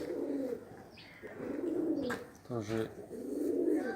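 Domestic pigeons in Dushanbe coo in repeated low, throbbing phrases, several calls close together with brief pauses, while someone says a word partway through.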